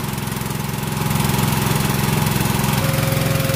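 A Mitsubishi S6B2 engine aboard a large cargo boat runs steadily while pumping water out of the hull, a close, loud, continuous low drone with a faint tonal whine rising near the end.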